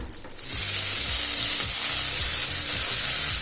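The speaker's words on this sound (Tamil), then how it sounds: "புதினாவை லேசா வதக்கினா போதுங்க, ரொம்ப வதக்கணும்னு அவசியம் இல்லை." Mint leaves sautéing in a pan with green chilies for a chutney, a steady bright sizzle with occasional stirring clatter, close and continuous.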